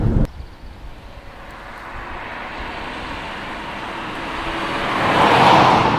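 A Fiat Tipo brakes hard from the national speed limit: steady road and engine roar fills the cabin, then swells into a brief, louder burst near the end as the car stops.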